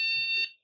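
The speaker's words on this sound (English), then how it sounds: "when I turn this switch on, my shifter is going to start beeping at me." A single short electronic beep from a houseboat's shifter control, high and bright, that cuts off cleanly and leaves silence.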